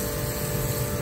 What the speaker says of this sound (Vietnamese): máy từ là nó kêu như này anh em